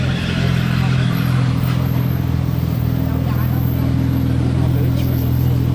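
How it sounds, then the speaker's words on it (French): A Porsche Turbo with an aftermarket exhaust rumbles steadily nearby with a deep, loud exhaust drone, continuous throughout amid general outdoor bustle at Place du Casino, Monaco. "Elle a un échappement pas du tout d'origine, elle fait un gros bruit"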